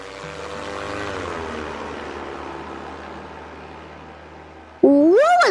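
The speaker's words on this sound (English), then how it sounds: "she saw a stunt plane at the" A stunt plane drones steadily with a propeller hum that slowly fades, then a loud close engine roar with rising and falling pitch sweeps in at the end, at an exhibition setting.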